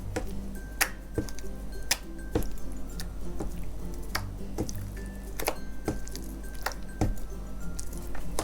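Glitter glue slime is stirred and squished, giving wet, sticky clicks and squelches in an irregular rhythm, close up, over a low steady hum, with no speech.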